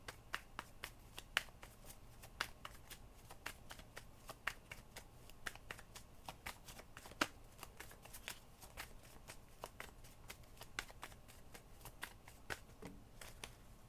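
Tarot cards are shuffled and handled at a quiet tabletop, making a steady run of soft, crisp riffles and slaps that repeat in quick succession throughout, close and faint, with no talking.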